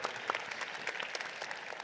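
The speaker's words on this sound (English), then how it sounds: "I think that's worth a round of applause, absolutely" Brief burst of audience applause at a panel discussion on building a talent-based economy, steady mid-volume clapping with no voices over it.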